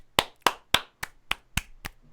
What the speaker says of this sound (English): Clapping into the mic.